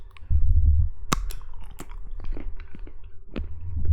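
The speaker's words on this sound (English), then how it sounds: "you just love a crunch about a good chocolate bar?" Someone bites into a crunchy dark chocolate bar, very close: a few sharp, cracking snaps followed by steady, moist crunching and chewing.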